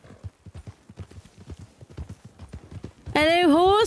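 Horse hooves clip-clopping in the Red Dead video game, a brisk, regular run of hoof strikes, ending with a loud horse whinny; talk is heard alongside.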